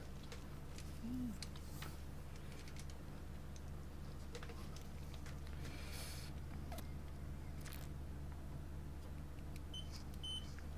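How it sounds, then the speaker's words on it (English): A MacBook logic board under repair gives a faint, brief high beep near the end. A steady low electrical hum runs underneath, with scattered small clicks and no speech. "Just checking that it beeps."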